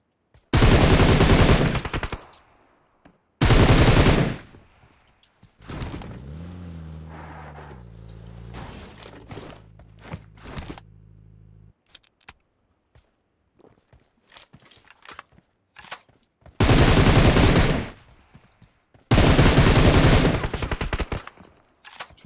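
Gunfire in the mobile battle game PUBG Mobile comes as loud, dense automatic bursts lasting a second or two each, separated by quieter stretches of clicks, footsteps and scattered single shots.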